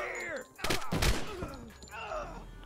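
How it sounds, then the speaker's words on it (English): Suppressed sniper rifle shots in Door Kickers 2, a few muffled thumps and cracks clustered in the middle, with a talking voice running through the rest. "Silenced rifle sounds way different and it doesn't alert enemies of our presence"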